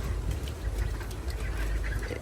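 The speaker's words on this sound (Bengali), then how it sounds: "এটা চীনা হাঁস না" Chinese ducks quacking and honking in a farmyard, a steady noisy chorus of fowl close by with no talking.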